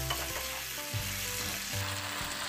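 Eggplant sautéing in oil, a dense, steady sizzle with a low hum and a couple of brief stirring scrapes, close and even, without talk.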